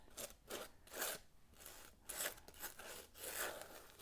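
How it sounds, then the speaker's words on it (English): A palette knife scrapes gritty sand-mixed paint across a page, a series of soft, rasping strokes coming in uneven rhythm, close and fairly quiet. "I think I will do it with a palette knife. I don't know if you can hear the grit in that."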